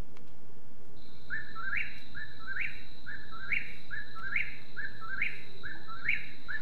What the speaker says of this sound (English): the whippoorwills, this bird of Arizona, put an end to our idea